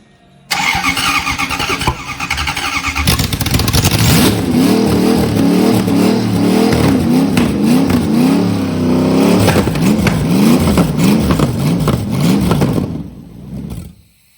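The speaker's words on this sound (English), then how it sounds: "Gentlemen, start your engines." A powerful 1UZ V8 engine swapped into a Mazda MX-5 cranks and fires up, then revs repeatedly in loud, rising and falling bursts before cutting off at the end.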